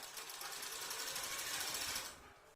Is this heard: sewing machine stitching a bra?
yes